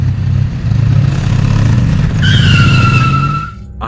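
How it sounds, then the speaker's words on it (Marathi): Motorbike speeding on a highway and skidding: a loud engine drone followed by a sharp, rising tire squeal that holds for over a second before cutting off. "त्यांची ती भरधाव बाईक त्या हायवेवर घसरली।"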